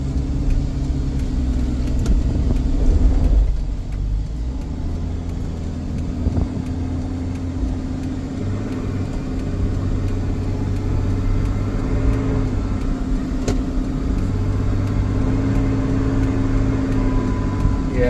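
Steady interior drone of a car cruising on the road at around 50, a continuous low engine and road rumble with slight shifts in pitch and no talking.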